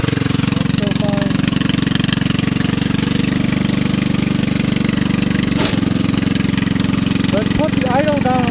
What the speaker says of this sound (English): Let's put the idle down a little bit.